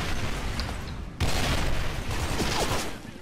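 Gunfire in a first-person shooter game: bursts of rapid shots and booming reports crowd the whole stretch, fairly loud and continuous, with no talking over them.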